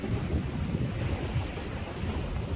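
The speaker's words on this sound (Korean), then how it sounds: "파도가 조금 내치고 있고요" Sea waves wash and break at a harbor on a cloudy day, a steady close rush of surf mixed with wind noise, with no voices.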